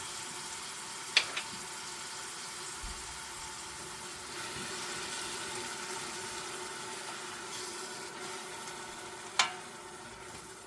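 Chopped onions frying in a pot for a gnocchi soup give a steady, even sizzle throughout, with a few sharp utensil clinks against the pot.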